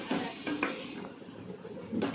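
Leafy greens are stir-fried in a pan, a few scraping stirs of a spatula against metal with faint sizzling underneath, close and quiet.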